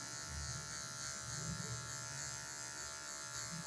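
Electric hair clippers fitted with a number 1 guard buzz steadily while cutting hair for a mid fade, a constant close hum with slight rises as the blades move through the hair.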